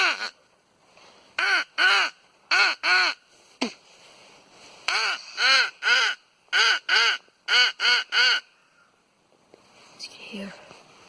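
A handheld Nordik crow call blown to imitate crows gives loud, close, harsh caws in quick groups of two or three, with pauses between groups, then fades to faint outdoor rustling.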